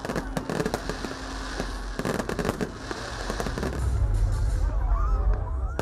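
New Year 2022 fireworks bursting over Skanderbeg Square in Tirana, a rapid barrage of loud cracks and booms over a murmuring outdoor crowd, building into dense continuous rumble toward the end.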